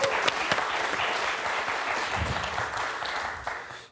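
A studio audience on a French quiz show breaks into applause, a full, close burst of steady clapping that carries for a few seconds before tapering off at the end.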